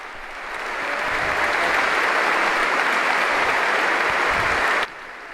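Consecrated religious gathered for Vespers in Portugal applaud after Pope Francis's homily, a large crowd's clapping swelling quickly into a sustained loud roar, then cutting off abruptly near the end.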